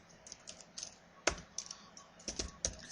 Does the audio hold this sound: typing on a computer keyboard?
yes